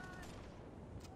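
Machine gun fire from the Toy Soldiers video game, a fully upgraded level 4 gun, rattles as a dense continuous burst in the background throughout the short moment.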